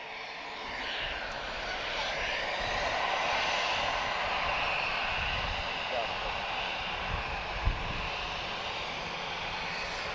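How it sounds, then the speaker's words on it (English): An EasyJet Airbus A320 departs Lisbon airport, its engines a broad, steady roar heard from a distance that swells slightly and holds, with faint talk over it. "next departure, uniform 22366 off to London Luton. This is EasyJet, A320."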